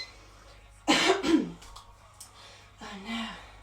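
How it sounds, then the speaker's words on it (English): A single person coughs once, a short loud throat-clearing burst, followed a moment later by a softer vocal sound, recorded close during a home strength workout. "Coughed on Instagram."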